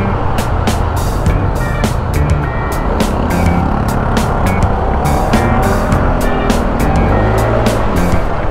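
A freshly overhauled Honda Click 150 scooter with a new piston runs loudly and close up, its engine droning steadily with a rough, buzzing texture and a few sharper revving bursts throughout.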